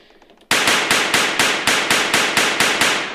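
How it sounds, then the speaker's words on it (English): Rapid gunfire from a first-person shooter built in Unity, about ten loud sharp shots in a fast steady burst, each with a brief decaying tail, after a quiet start. "if I point up to the sky where there's not much going on and shoot,"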